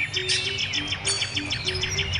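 Many birds chirp and tweet busily in a rice field, rapid overlapping calls repeating in quick rhythmic bursts, fairly close and lively, with a low steady background rumble underneath.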